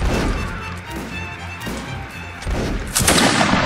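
Musket gunfire in a Napoleonic Wars battle game, a dense stretch of shots and battlefield noise with a louder close report near the end, sustained and loud throughout.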